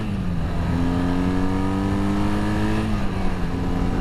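A restored 1979 Honda CM400T air-cooled motorcycle engine revs up and holds a raised, steady drone close by before easing back down, loud and alone.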